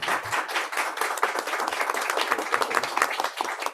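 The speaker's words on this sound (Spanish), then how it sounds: "un aplauso, por favor" A crowd applauds steadily at a tax law congress, a dense wash of many hands clapping at once, sustained and fairly loud throughout.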